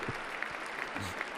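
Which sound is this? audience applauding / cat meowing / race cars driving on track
audience applauding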